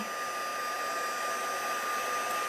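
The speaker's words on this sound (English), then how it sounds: "you just want to keep moving your embossing tool" An embossing heat tool blows a steady, close airflow hiss with a faint motor whine, constant and alone, while being moved over a flower design.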